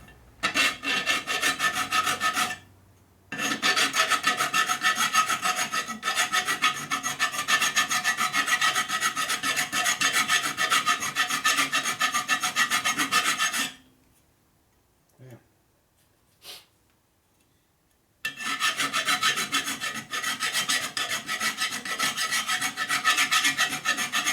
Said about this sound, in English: Here's a rough file. Which means it cuts a lot.